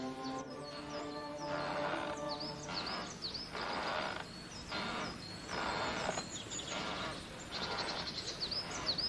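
Blackbirds sing outdoors in Galicia, repeating bright fluting phrases and chirps in short bursts separated by brief gaps, fairly faint over a soft background hiss.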